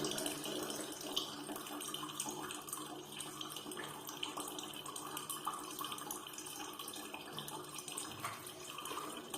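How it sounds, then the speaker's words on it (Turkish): Water drains steadily from a bathroom sink faucet after the supply valve is shut during a leaky tap repair, a continuous close rushing and trickling wash with no voices. "Şimdi içindeki şu suyu boşaltalım."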